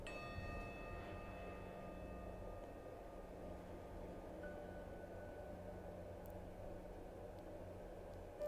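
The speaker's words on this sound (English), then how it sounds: "As you hear the chime," A meditation chime rings once at the start, its clear metallic tones lingering and slowly decaying over a faint background hum.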